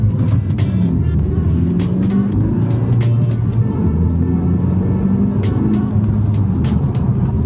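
A car accelerates with the throttle raised to 50 percent, giving a loud, steady engine drone and road roar throughout, with the engine note rising slightly in waves.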